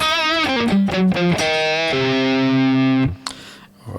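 An Epiphone Les Paul Plus Top Pro electric guitar on its middle pickup position plays a loud, distorted lead, with a quick run of notes followed by a long sustained bend that cuts off near the end.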